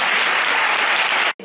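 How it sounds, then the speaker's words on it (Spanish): Dense audience applause after a social theatre performance of The Little Prince, a loud, unbroken burst of many hands clapping that cuts off abruptly at the end. "Un aplauso a todos."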